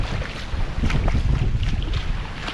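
Strong hurricane wind during a storm surge, roaring and buffeting a nearby microphone in continuous loud gusts with rushing water-like noise underneath.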